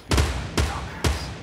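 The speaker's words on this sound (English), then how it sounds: "Start shooting at them." Gunfire in the video game Fortnite: three loud, booming shots about half a second apart, close and punchy, with no talking.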